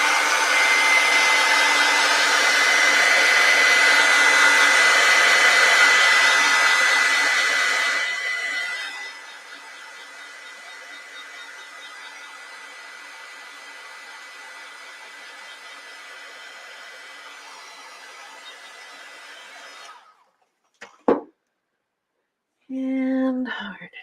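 A hair dryer blows on a watercolor painting, a steady loud whirring hiss at high speed for several seconds, then switching to a quieter low setting before clicking off, followed by brief handling noises.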